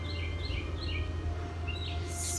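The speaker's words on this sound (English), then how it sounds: "hear those birds?" Birds sing outside with repeated light chirps and short tweet phrases, faint and somewhat distant above a steady low background rumble, with no voices.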